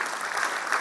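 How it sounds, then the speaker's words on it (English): Brief, dense applause from an audience at a wildlife awards ceremony, an even, steady clatter of many hands clapping. "let's give him a round of applause"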